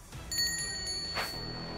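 A bell rings to start a brawl between cartoon monster trucks: a bright, sustained ring with a single clang that fades out, fairly close and alone.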